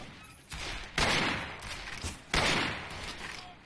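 Rapid bursts of video game gunfire crackle in two loud, dense volleys, with a quieter stretch between them, no talk.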